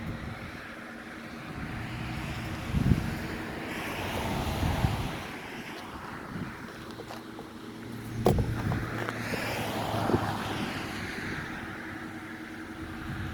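Wind blowing outdoors, buffeting the microphone in a rough, rumbling roar that swells in gusts and eases between them.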